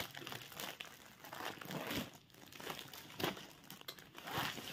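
An organza saree with a flower print and golden detailing is unfolded and handled close by, giving a steady run of crisp fabric crinkles and rustles with louder bursts throughout.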